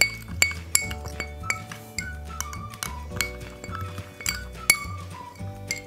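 A beetroot face mask mixture with a few drops of glycerin being stirred in a glass bowl, a rapid series of bright clinks and scrapes from the utensil against the glass, close and clear.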